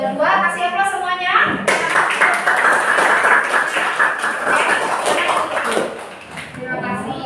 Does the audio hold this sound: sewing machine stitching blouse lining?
no